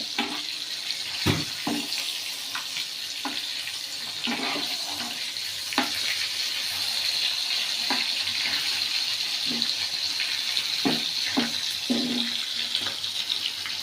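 Anchovies fry in oil in a pan with a steady, close sizzle throughout, punctuated by scattered pops, spatters and utensil knocks, and no speech.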